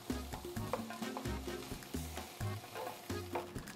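Onions sauté with seasoning in a hot pan, a steady close sizzle broken by repeated scraping stirs of a utensil against the pan.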